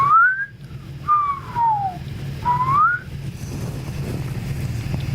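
Someone whistles three short, clear tones nearby: a rising note, a longer falling glide and another rising note. Faint steady background noise lingers after the whistling stops.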